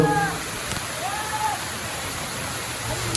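The third waterfall at Dallapalli roars as a steady broadband rush of falling water, constant and enveloping, with faint voices in the background.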